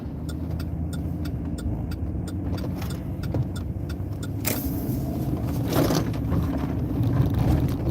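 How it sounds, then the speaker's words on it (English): A tow truck on a road passes by the patrol car in Minnesota, its engine a steady mid-range rumble with a rhythmic ticking throughout and a brief swell of noise as it goes by. "There's the tow truck."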